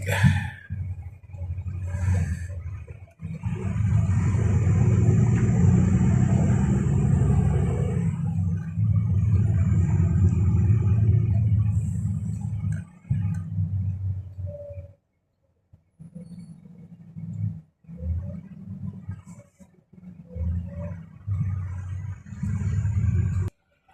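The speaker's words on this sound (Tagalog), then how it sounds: "Haba na traffic na yan, no?" Heavy road traffic in Taif city near Al Khabir road, a deep continuous rumble of engines that fills the first half and then breaks into shorter passing surges and pauses, close and loud.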